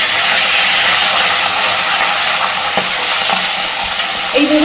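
Loud, continuous hissing and crackling of fish heads frying in hot oil, with a faint scrape of a utensil near the end.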